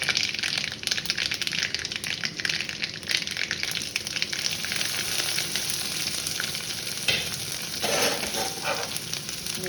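Onions frying in a pan with a steady, dense sizzle, occasional stirring scrapes, close and continuous throughout.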